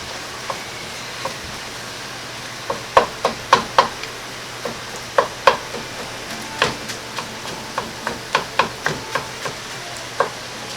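Ground pork for spaghetti meat sauce browns in a pan, giving a faint steady sizzle. Sharp scraping knocks from stirring come in irregular bursts over it.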